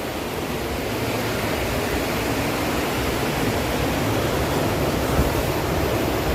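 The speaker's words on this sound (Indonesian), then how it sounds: "ini mah tepat berada di pinggir aliran sungai" A river flows right beside a village bamboo house, a steady, close rushing wash of water that stays even and unbroken, with no voices.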